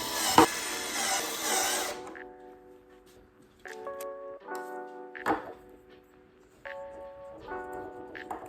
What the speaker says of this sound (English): the holes that I'm going to drill so that I can attach the screws to them